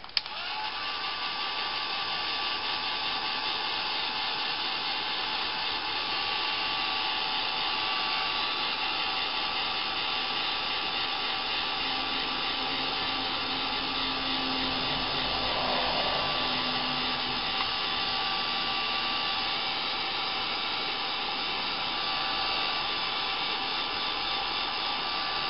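Hair dryer blowing steadily and close for a long stretch, drying paint on a craft butterfly, with an even whirring roar and no talk.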